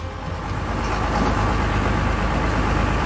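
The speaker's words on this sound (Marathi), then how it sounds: "हे मशीनचं खोदकाम चालू आहे आणि भरणं चालू आहे हे गाडी फुल लोडेड झाली" A digging machine working beside a truck being loaded, its heavy engine giving a steady loud low rumble that rises slightly and holds for a few seconds.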